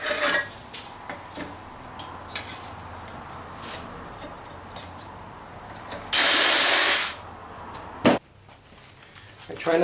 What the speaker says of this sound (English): I try to take a bigger drill bit, kind of recess the hole so that it kind of sits under the metal